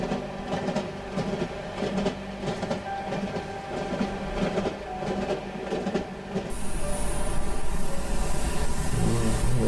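Inside a train carriage in the horror video game Cry of Fear, a continuous low rumble of wheels and rattling rolls on, growing louder and heavier toward the end as a high whine joins in.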